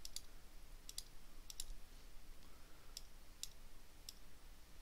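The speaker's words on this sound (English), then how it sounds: "So I'm just going to go down and click here," Sharp, faint computer mouse clicks, six in all, spaced irregularly over a quiet background while the free select tool is used in GIMP image editing software.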